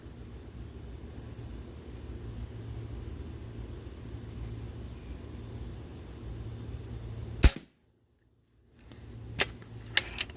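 A single sharp crack from a Webley & Scott Xocet .25 calibre air rifle fired outdoors at a target 15 yards off, followed by a brief hush and then a few small clicks and ticks over steady background hiss.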